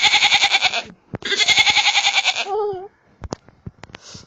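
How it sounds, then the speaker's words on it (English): A goat bleating in two long, loud, quavering calls close by, followed by a shorter wavering bleat, then a few scattered knocks and soft rustles. "Papa goat. Goat."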